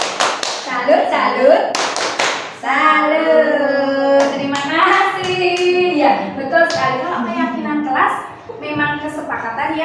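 Hands clapping from a classroom audience at a school training session, scattered claps heard under steady talk from nearby voices.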